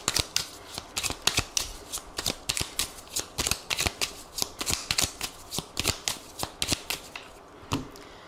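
A deck of oracle cards being shuffled for a reading, producing a steady run of quick riffling flicks and slaps, close and crisp, with no talk over them.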